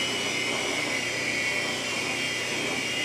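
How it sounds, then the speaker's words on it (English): A LiteHawk II RC helicopter hovers with a steady, continuous high-pitched motor and rotor whine, close and even throughout, with no talking. "this is a pretty stable little helicopter."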